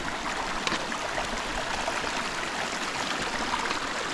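A stream at a trail crossing in Nantahala National Forest rushes steadily in a continuous broad hiss, close by and fairly loud, with no voices.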